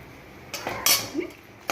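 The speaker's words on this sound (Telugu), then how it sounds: "కొంచెం అంతా జీలకర్ర వేసుకోవాలండి." Cumin seeds go into a pan with chillies while making karivepaku podi, giving a few light clinks and scrapes of utensil on metal pan, close and fairly quiet.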